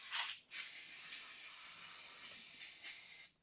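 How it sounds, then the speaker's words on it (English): Brake cleaner sprayed onto a Jeep Cherokee XJ front brake rotor, a few quiet hissing aerosol bursts, the first short and sharp, then a longer steady spray fading out. "go ahead and clean off your rotor with some brake cleaner"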